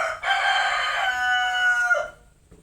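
A single rooster crows loudly and close by, one long drawn-out call that fades into quiet at the end.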